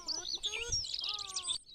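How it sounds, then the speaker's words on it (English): Loud, close birds chirp in Kerbal Space Program, a dense tangle of shrill tweets and warbling whistles overlapping for nearly two seconds before cutting off abruptly. "the sweet sound of incredibly loud birds"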